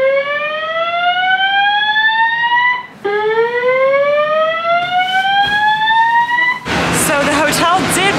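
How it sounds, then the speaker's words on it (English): A hotel fire alarm blares in rising sweeping tones, loud and near. It repeats twice, then breaks into a harsher burst of noise at the end, with no one talking. "An alarm has been activated."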